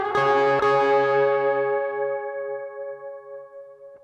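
An electric guitar strikes a bent lead note twice in quick succession, then lets it ring out and slowly fade over several seconds with a bell-like, effects-colored sustain.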